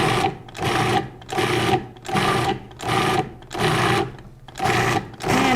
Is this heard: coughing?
no